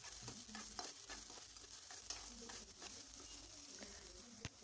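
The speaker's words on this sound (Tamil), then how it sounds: "சால்ட் ஆட் பண்ணால் கொஞ்சம் ஃபாஸ்ட்டாக வதங்கும்." Ingredients for Tamil beetroot poriyal sizzle and fry in a pan with added salt, with steady close stirring and spatula scrapes throughout.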